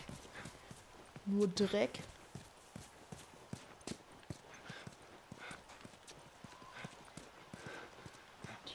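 Horse hooves clip-clop on the ground in The Last of Us Remastered, a steady run of close hoof strikes with a louder burst near the start, under someone speaking German.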